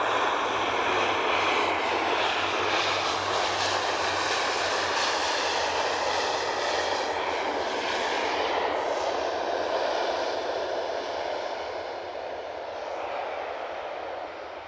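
Edelweiss airliner arriving at an airport during evening plane spotting, a loud sustained jet engine roar that gradually fades toward the end, with no talk.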